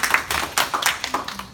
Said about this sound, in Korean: 박수 한번 네, 주실까요?